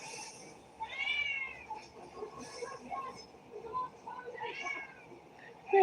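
A cat meows several times, with rising and falling tonal calls that are moderately close and recur through a quiet background, and a person may imitate the meow.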